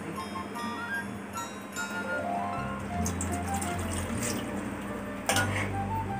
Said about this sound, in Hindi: अब मैं इसमें थोड़ा सा पानी ऐड करूँगी।